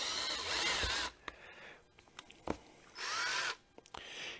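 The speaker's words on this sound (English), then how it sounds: "I'm going to drill a hole right here where I got it marked." A power drill bores into a leaded glass spinner, the bit cutting through soft lead in two loud, whining bursts separated by quiet pauses with small clicks and knocks.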